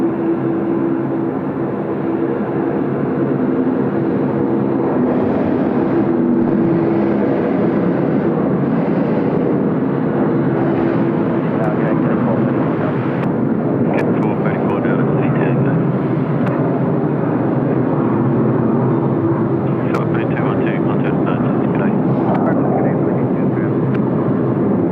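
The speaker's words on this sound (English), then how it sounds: "Here we go, some Rolls-Royce engines, just like the Vietjet departed not long ago." An airliner fitted with Rolls-Royce jet engines at Sydney Airport roars loudly and steadily with a deep rumbling thrust that swells and holds throughout, while people talk over the engine noise.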